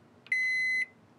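A single loud, steady electronic beep lasting about half a second from a Panasonic NN-SD975S microwave oven's beeper, sharp and close, over quiet room tone.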